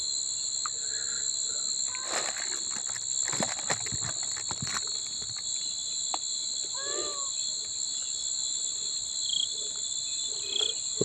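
Crickets chirp in a dense, steady high-pitched drone at night, continuous throughout, with scattered clicks, rustles and a few faint animal calls underneath.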